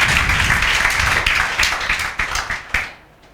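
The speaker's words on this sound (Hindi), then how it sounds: "भैया के लिए जोरदार तालियां बजाओ" Students in a classroom applauding a classmate, a sustained round of loud, dense clapping that thins into a few scattered final claps and fades out.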